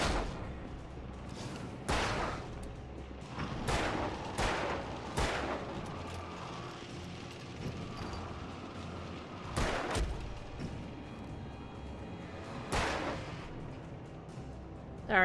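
Gunshots in the video game Alan Wake, seven or eight sharp loud bangs spaced irregularly over a low ambient game background.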